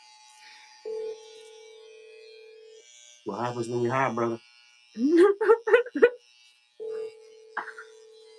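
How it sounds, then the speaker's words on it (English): An outgoing telephone call rings out unanswered: a steady tone sounds in two long bursts, with someone speaking in between. "he's not picking up the phone"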